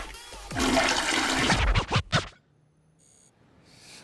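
A toilet flushes close by in a rushing, gurgling surge that ends abruptly, followed by near silence and a faint electronic tone.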